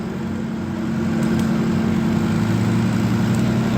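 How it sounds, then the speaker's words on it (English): A John Deere diesel tractor runs steadily at an antique power show tractor pull, its engine droning loud and close with a constant low hum that builds slightly after the first second. "There's a nice John Deere diesel coming up next. I'm curious to see that thing pull."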